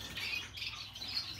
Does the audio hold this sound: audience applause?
no